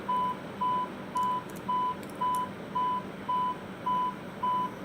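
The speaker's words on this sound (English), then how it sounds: "What's beeping?" A regular warning beep repeats in a Microsoft Flight Simulator airliner cockpit, about nine evenly spaced tones over a steady hum, with a few faint clicks.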